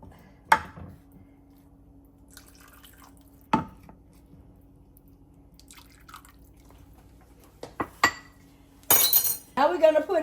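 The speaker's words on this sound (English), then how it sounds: "A half a cup of water. Stir it up. Now just pour it in." A few sharp clinks of a utensil against a dish, then a brief splashing pour of half a cup of water into a pot roast pan near the end, in an otherwise quiet kitchen.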